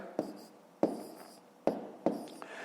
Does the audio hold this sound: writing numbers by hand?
yes